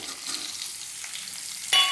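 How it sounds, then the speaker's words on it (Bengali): Papaya pieces and potatoes fry lightly in a pan, giving a soft steady sizzle with faint stirring scrapes and a sharper clack near the end. "এগুলো হালকা ভেজে নেবো আলুর সাথে।"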